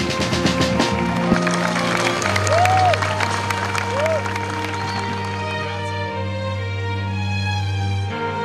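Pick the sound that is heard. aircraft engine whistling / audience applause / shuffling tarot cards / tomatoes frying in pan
audience applause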